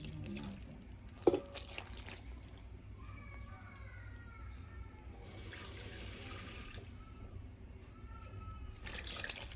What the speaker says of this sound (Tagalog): lalagyan po yan ng konting tubig. Naglalaga lang.